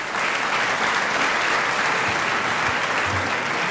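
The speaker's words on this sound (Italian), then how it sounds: "Grazie Alessandro, anche questo applauso molto, molto bello e molto sentito da parte degli studenti." Students at an Italian university conference presenting master's programs applaud warmly, a dense, even wash of clapping that carries on steadily throughout.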